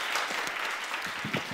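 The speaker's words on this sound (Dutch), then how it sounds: "Geef ze een warm applaus." An audience gives warm applause after a music performance, a continuous wash of clapping from many hands at moderate loudness, a few sharper claps near the end.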